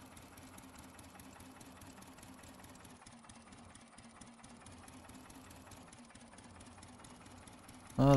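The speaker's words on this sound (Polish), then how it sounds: "Ciągnik to kurde chyba chodzi na pół gwizdka." A tractor engine runs at low power with a steady, even drone and fine rapid knocking. It stays moderately loud and unchanging, with a short louder burst at the very end.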